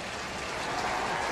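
Steady crowd applause at Busch Stadium, a standing ovation for a baseball batter, a dense wash of clapping and cheering from a large audience, continuous throughout.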